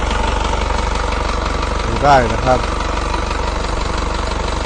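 The diesel engine of an old Isuzu NPR six-wheel truck idles steadily and loudly with a low, knocking rumble throughout, while someone speaks briefly over it.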